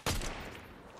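A single sharp sniper shot in the video game Fortnite cracks loudly up close and then fades into a short rumbling tail, with no voices over it.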